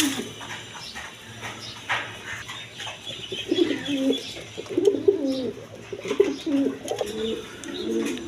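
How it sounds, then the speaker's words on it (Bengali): Peshawari Lahori pigeons coo in repeated low rolling phrases, growing more frequent and louder in the second half, with faint background noise and no talking. "দেখেন পেশরি লাহোরি কবুতর, একদম কোয়ালিটি ফুল কবুতর।"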